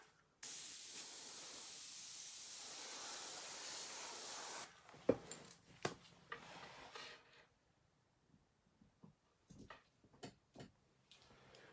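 A Grex airbrush sprays paint onto a skateboard deck in a steady, close hiss lasting about four seconds, followed by scattered light clicks and handling knocks.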